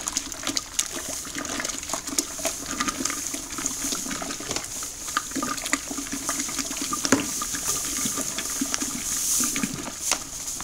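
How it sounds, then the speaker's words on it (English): Home-brew beer wort being stirred by hand into a whirlpool, a steady swirling, sloshing wash of liquid that runs continuously at moderate level with occasional clinks, no talking. "Now just stir for a couple of minutes, try and get a whirlpool happening"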